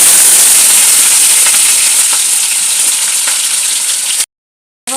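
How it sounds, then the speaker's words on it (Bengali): Capsicum fries in a wok with a loud, continuous sizzling hiss, steady for several seconds before cutting out briefly near the end. "ক্যাপসিকামগুলো আগে ভেজে নেব"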